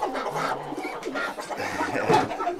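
Pigeons coo softly inside a farm enclosure housed alongside rabbits, a low, muffled, rolling cooing that carries on steadily at moderate distance with no talk.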